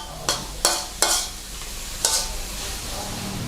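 Mussels stir-fried with red curry paste and long beans in a pan, a steady sizzle broken by four sharp scraping stirs of a spatula, close and without speech.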